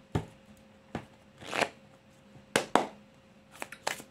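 Oracle cards shuffled by hand in several quick riffling bursts with short pauses between, close and clear with no talk over them.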